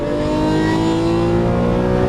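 A Lamborghini Aventador LP700-4 V12 at full throttle on a track gives a loud, steady, close engine roar with rich harmonic tones sustained across the whole short stretch, no voice present.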